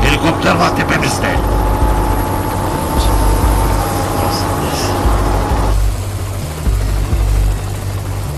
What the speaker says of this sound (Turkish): helikopter var tepemizde.